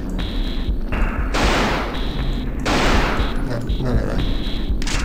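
Gunfire in the video game Alone in the Dark, loud bursts of rapid shots in repeated volleys over game sound, with a voice speaking now and then.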